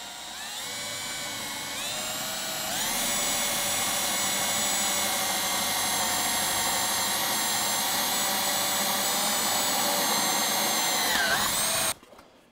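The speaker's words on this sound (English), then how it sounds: "And now I'll drill this hole." A power drill bores a hole through an aluminium elevator rib for a CH-750 Super Duty aircraft, a steady high whine that rises in pitch and then holds loud and close for about nine seconds before cutting off abruptly.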